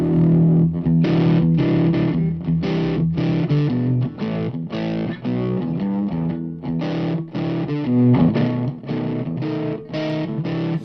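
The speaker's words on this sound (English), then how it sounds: "you can get some pretty happening high gain tones by ganging the 2 drives together" An electric guitar played through a Magic Dust Duo pedal with both drive channels ganged for high gain, giving a thick distorted tone as chugging riffs and chords repeat rhythmically without pause.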